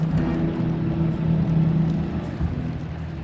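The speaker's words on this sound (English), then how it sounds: "I can hear the pumps firing up overhead." Pumps fire up overhead in The Walking Dead Saints and Sinners video game, a steady low mechanical drone with a faint rumbling hum throughout.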